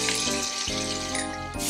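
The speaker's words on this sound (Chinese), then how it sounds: "干贝一定要用大火下去煎，然后再撒上我们的海盐做少许的调味，煎两面上色就可以了。" Scallops sear over high heat in a hot pan, a dense, loud sizzle and crackle filling the whole stretch with brief shifts in intensity, no talking.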